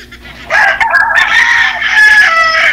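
Fighting cocks kept as gamefowl crow loudly and close by, several long overlapping cock-a-doodle-doo calls running one into another without pause, with no talk.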